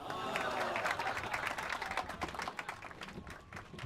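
A crowd in the video game Blues & Bullets applauds, a continuous wash of clapping and cheering that holds steady before tapering slightly toward the end.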